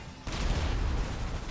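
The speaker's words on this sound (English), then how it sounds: "All right, we're getting shot." Dense, continuous gunfire and explosions from a GTA V shootout, a loud sustained barrage that starts abruptly after a brief quiet moment and rumbles on steadily.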